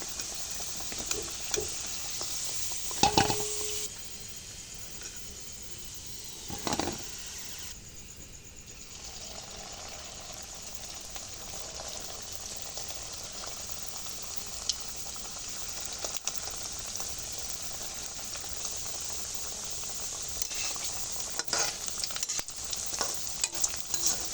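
Pitha cakes fry in hot oil with a faint, even sizzle, broken by a few louder clatters of utensils against the pan.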